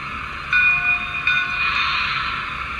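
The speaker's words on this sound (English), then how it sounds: "Hear the whistle?" A thin, high whistle sounds over a steady mechanical hiss, rising in bursts then holding, from a Lionel LC+ 2.0 PRR 0-6-0T model steam locomotive running close by.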